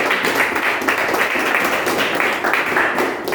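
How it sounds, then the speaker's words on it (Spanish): A church audience gives loud, sustained applause after a closing prayer, dense clapping rolling on evenly throughout. "Pueden brindar un fuerte aplauso"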